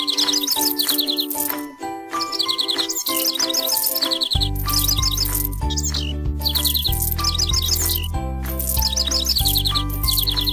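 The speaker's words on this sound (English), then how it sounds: "Let the bird sing." A bird sings in a pony care babysitting video game, with bright chirping tweets repeating over a cheerful synthesized music loop, loud and continuous.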